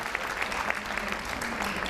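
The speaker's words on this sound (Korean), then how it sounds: "시민들에게 박수까지 받습니다." A gathered street crowd claps for a violinist's outdoor performance, producing brief, steady, moderately loud applause with a faint murmur of voices beneath.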